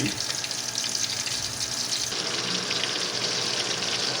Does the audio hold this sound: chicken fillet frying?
yes